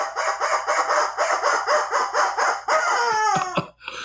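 A rubber chicken toy squeaks in a rapid rhythmic series of about a dozen loud, close honks, then ends with a few strained, wheezing squawks.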